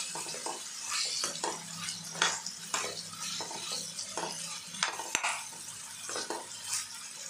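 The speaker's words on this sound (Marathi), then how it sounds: "तर ते चांगलं हलवून घेऊया आपण." Tomato rice mixture with sugar being stirred in a pan, a spoon scraping in repeated strokes over a soft steady sizzle, close and moderately loud with no talking.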